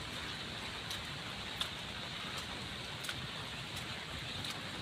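Light, drizzle-like rain from Typhoon Kristine falling over an outdoor parking area, a steady soft hiss with faint scattered drop ticks, fairly quiet and continuous with no voices.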